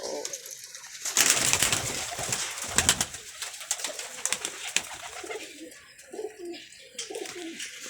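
Pigeons coo nearby in low, throaty bursts, with wing flaps and rustling between calls and a faint voice in the background.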